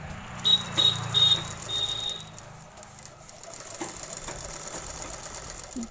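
A sewing machine stitches a shirt sleeve placket in three or four short, close whirring bursts at the start, then falls to a quieter low hum with faint clicks and no voices.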